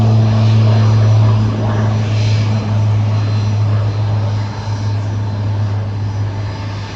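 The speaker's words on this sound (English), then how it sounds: "here's United Express taxiing for departure to Dulles Airport, Washington." A United Express airliner taxiing for departure at Burlington International Airport in Vermont, its propeller engines droning loud and steady with a strong low hum that eases slightly over several seconds.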